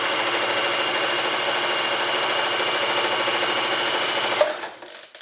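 An Elna 2000 sewing machine runs a zigzag stitch at short stitch length, a steady rapid mechanical whir heard up close and alone, then stops abruptly near the end.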